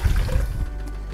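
Water is poured into a bowl of sweet-sour sauce mix that already holds pineapple juice, giving a brief, close splashing pour that trails off after under a second.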